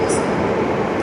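A train departing a station in Poland fills the air with a loud, steady rumble and hum throughout, with no distinct breaks.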